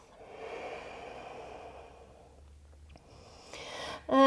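Slow, deep breath drawn during a grounding vinyasa yoga flow: a soft, airy inhale-exhale lasting a few seconds close to the microphone, followed by a brief quieter pause and some rustling, then a louder sharp intake at the end.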